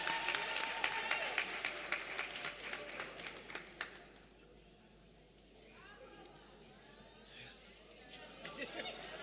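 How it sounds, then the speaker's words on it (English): Audience applause at a college graduation ceremony in a hall, loud clapping for the first few seconds then fading into quieter crowd murmur, with a voice over a public address system. "Can you give him a round of applause as he's coming up?"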